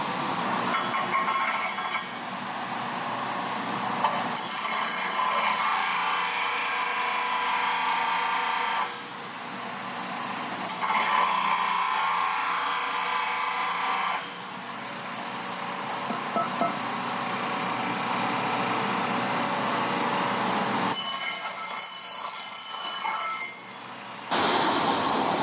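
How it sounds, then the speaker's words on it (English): An angle grinder works a metal downbar for a 1966 GMC engine bay down to a marked line, loud and steady in several long bursts separated by short pauses, with no talk. "I'm gonna just grind it to my mark"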